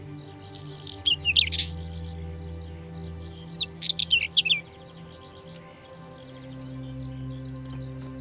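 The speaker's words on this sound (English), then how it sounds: "This is where the windchat breeds, a bird that has spent the winter south of the Sahara." Whinchat song in quiet countryside: two short bursts of bright chirping warbles, fairly distant, over a steady low rural hum.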